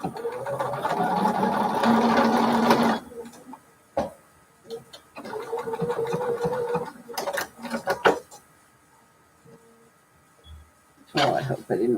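A domestic sewing machine stitches at a short stitch length of 1.7, a steady rapid whirring burst at close range, followed by shorter starts and stops of stitching mixed with someone talking during quilt block piecing.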